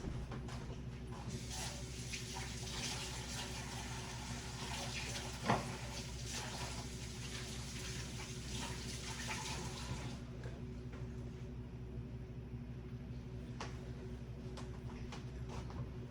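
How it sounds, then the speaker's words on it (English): Water runs steadily from a tap while hands are washed at a kitchen sink, a continuous broadband rush with a brief knock midway, stopping abruptly near the end and leaving quiet room tone. "I'm gonna wash my hands really quick"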